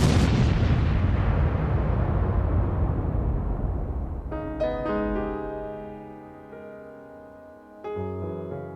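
Radio comedy sound effects: a rumbling explosion fades into crackling gunfire bursts, then ringing metallic tones with further pops, loud and continuous, with no talking.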